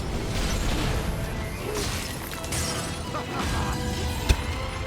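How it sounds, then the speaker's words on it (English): Game combat in Stranger of Paradise: Final Fantasy Origin, with a dense wash of overlapping blasts and crashes churning throughout and one sharp bang near the end. "Explosions going off all over the place."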